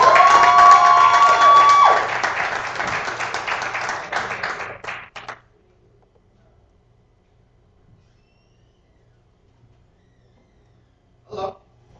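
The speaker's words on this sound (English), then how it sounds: "please, everybody give a round of applause" Live audience at a spoken-word poetry show breaks into loud clapping and cheering for about five seconds, fading out into silence, with a short burst of crowd noise near the end.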